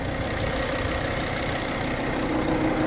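A 2011 van's 2.5-litre diesel engine idles steadily up close at a car market, a constant rattling hum with a knocking clatter that never changes pace.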